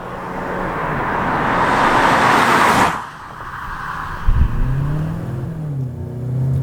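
A 2019 Mazda 6 Signature sedan accelerating hard, its engine and road roar building steadily for about three seconds before easing off into a quieter cruising hum, heard from inside the car with no talking.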